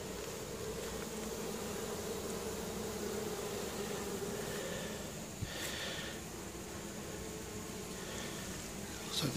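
Honeybees buzzing steadily around an open hive as it is being split, a continuous close drone with no talking.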